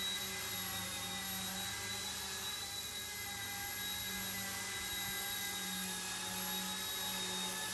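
Steady whine of a BO-105 helicopter flying in gusty wind, with a constant high-pitched rotor and engine drone holding level throughout and no voices.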